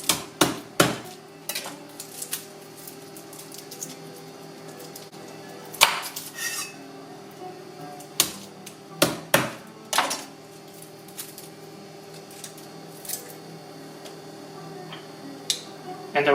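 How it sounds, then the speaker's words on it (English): Garlic cloves smashed with a blade on a board while cooking a clay-pot soy baked chicken, a series of sharp separate knocks scattered among quieter kitchen clatter. "Smash the garlic."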